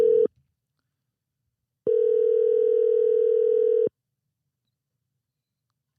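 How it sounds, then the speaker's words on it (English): A telephone ringback tone repeats in long steady electronic bursts, each about two seconds with long silent gaps between, loud and close with no talking. "Sometimes the ring takes too long."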